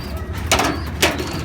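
Pigeons in a loft give two soft, muffled calls a half second apart over a low background hum, close but quiet.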